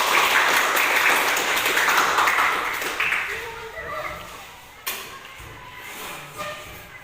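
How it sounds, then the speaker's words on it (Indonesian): A 7th-grade class at SMP Negeri 3 applauds together, with a burst of group clapping that fades over a few seconds, followed by someone talking and a few scattered taps. "tepuk tangan untuk kita semua."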